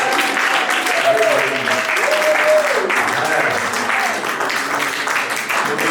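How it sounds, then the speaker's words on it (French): A church congregation at a Christian seminary in Belgium applauds and cheers in a dense, steady roar of clapping with raised voices mixed throughout, loud and sustained for the whole stretch. "Quelqu'un peut acclamer encore ce soir"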